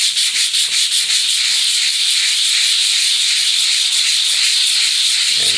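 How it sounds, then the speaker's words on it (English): Steady, loud abrasive rubbing on a hardwood floor while lifting old glue by hand, with a faint rhythmic back-and-forth texture at the start and no talking. "And now I'm very lightly rubbing it, so I don't wear myself out."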